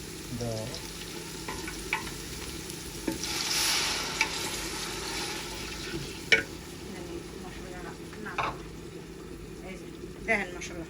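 Spices fry and sizzle in a pan with a little water as a spoon stirs them, a steady close crackle broken by sharper scrapes and a brief hissing burst, with talk faintly present.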